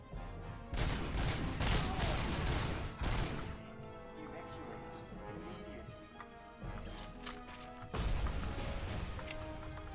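Heavy gunfire in RoboCop: Rogue City comes in dense, loud bursts of rapid shots and impacts, broken by a few quieter seconds of lighter clatter.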